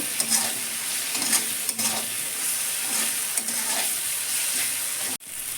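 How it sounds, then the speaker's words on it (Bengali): Spices sizzle steadily in hot oil as a spoon stirs and scrapes the pan in regular strokes, ending with a brief knock. "আমার মশলা তো ভাজা হয়ে গেছে ভেজে তেল বেরিয়ে আসছে"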